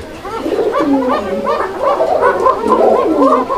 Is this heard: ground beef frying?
no